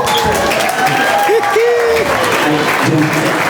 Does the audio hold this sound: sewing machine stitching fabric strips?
no